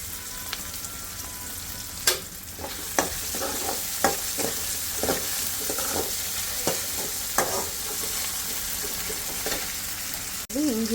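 Onions and other ingredients for a Tamil Nadu–style crab gravy, salted and sautéed in a pan, sizzle steadily under repeated scraping stirs of a spoon, close and fairly loud, with no talk.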